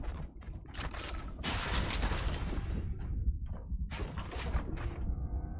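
Shotgun blasts in the brawler game Gang Beasts, several loud, sharp shots with mechanical clatter between them, heard in irregular bursts with no voices.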